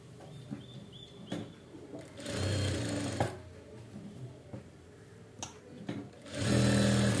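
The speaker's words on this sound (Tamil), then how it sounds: "இப்போ இங்கே வந்துட்டு ஒரு தையல் வந்து போட்டு எடுத்துக்கலாம்" A sewing machine stitches a seam on slippery fabric in two short, close runs of rapid whirring, separated by quieter clicks and handling noises.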